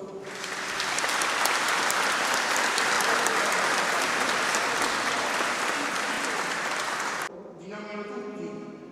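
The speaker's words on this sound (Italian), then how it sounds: "Facciamo un applauso." Church summer camp gathering with parents and children applauding, a loud, dense crowd clapping for about seven seconds that cuts off abruptly, followed by a voice speaking over a room.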